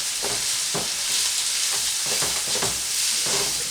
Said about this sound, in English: I'm gonna stir this up.